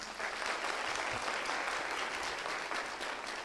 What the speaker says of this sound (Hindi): चलिए, पहले सवाल के लिए पहले ताली बजा देते हैं।